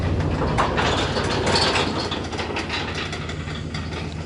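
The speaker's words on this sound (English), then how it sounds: "What the fuck? That's the truck." A truck roars past at close range, a loud, heavy rumble that fills the space and holds steady before fading slightly toward the end, with no talk over it.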